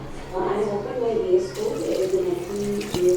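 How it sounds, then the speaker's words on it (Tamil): Ice water pours onto boiled potatoes meant for French fries, a close splashing gush of liquid that runs for a few seconds, with a voice partly audible alongside. "இந்த ஸ்டேஜில் கொஞ்சம் ஐஸ் வாட்டர் சேர்த்துக்கணும்."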